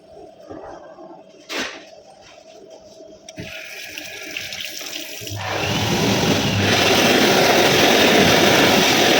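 Automatic sensor tap in an airport washroom starts running at about five seconds, a steady loud rush of water that continues to the end after a quieter stretch of room hum and a few clicks.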